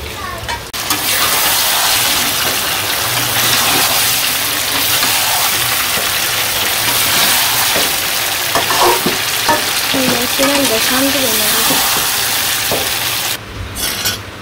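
Eggplant slices fry in hot oil in a village kitchen, giving a loud, dense, continuous sizzle with occasional stirring scrapes and a faint voice briefly in the background.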